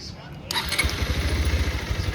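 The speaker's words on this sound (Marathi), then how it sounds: "गाडी स्टार्ट पण होणार" A motorcycle engine starts after a short click and settles into a close, steady, throbbing idle with a low rhythmic pulse.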